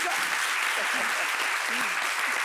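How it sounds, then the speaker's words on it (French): Studio audience applause on a French talk show about religious guides, a dense steady wash of clapping with faint voices beneath. "Applaudissements pour vous-même"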